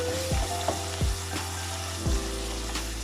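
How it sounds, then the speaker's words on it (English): Onions frying and browning in a pan for a mushroom curry, with a steady sizzle and a few scraping stirs of a spoon against the pan, close and alone. "Our onions is cooked nicely. You can see it's browning out."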